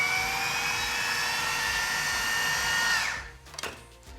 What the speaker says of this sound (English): I'm gonna grind up some more.